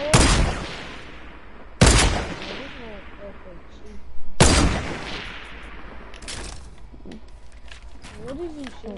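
Loud, sharp shots of video game gunfire, three heavy blasts a couple of seconds apart with long echoing tails, and quieter pops and rumbles in between, while people talk over the action.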